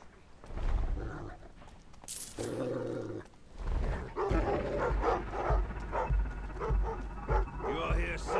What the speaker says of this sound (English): if the dog's barking at something, why wouldn't they let them out to go snoop it out?